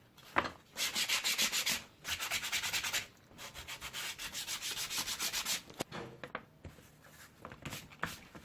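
Sandpaper rubs back and forth over the rough edges of a homemade palm slipper sole in quick, close scratchy strokes, coming in short bursts with brief pauses.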